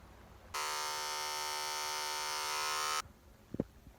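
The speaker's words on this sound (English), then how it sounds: "Beard trimmer? You're alive!" A beard trimmer buzzes steadily for about two and a half seconds at close range, then cuts off, followed by a couple of faint knocks.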